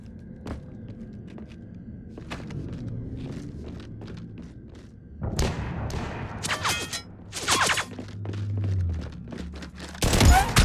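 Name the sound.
gunfire in the video game Mass Effect 3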